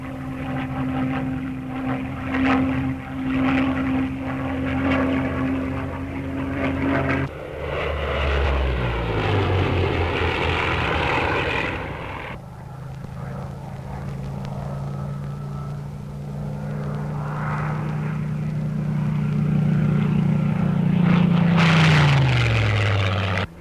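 A Supermarine Spitfire Mark 9 propeller fighter drones past, its engine note holding steady, then sliding downward as it recedes, followed by another pass that swells louder and drops in pitch near the end.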